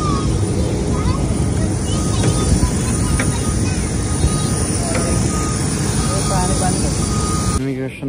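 A steady, loud roar of an airplane's engines fills the cabin at an airport just after landing as passengers get ready to disembark, with faint background noise and a brief change near the end.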